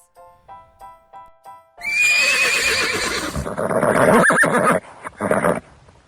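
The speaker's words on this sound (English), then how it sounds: "Horse," A horse gives a loud, close whinny, a long shrill neigh that breaks into shuddering bursts, preceded by a short run of hoof clip-clops.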